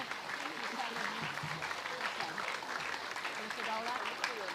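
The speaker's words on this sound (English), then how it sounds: "give a round of applause to Minister Watts and his team" Children applaud Minister Watts and his team at a community cricket programme's closing ceremony, with steady, moderately distant clapping and voices mixed throughout the crowd.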